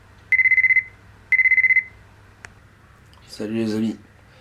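An alarm clock goes off early in the morning with two close bursts of rapid electronic beeping and a brief pause between them, followed by a short spoken remark.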